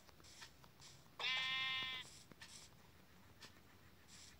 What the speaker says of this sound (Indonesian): Oke, ada domba di sana.